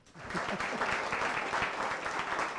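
Audience applause at a Tamil talk on Annadurai's Dravidian politics, a dense steady patter of clapping that swells quickly and holds loud throughout, with no speech over it.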